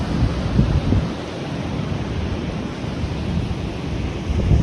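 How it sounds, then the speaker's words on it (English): Steady wind and ocean swell out on open water from a small fishing boat, a constant loud roar with low rumbling gusts and no voices. "And the wind is in our backs"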